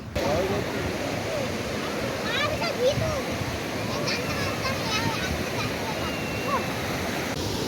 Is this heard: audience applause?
no